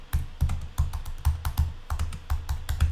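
Typing on a computer keyboard while entering a product search into an e-commerce chatbot, steady close keystrokes in quick uneven bursts with brief pauses, no voices.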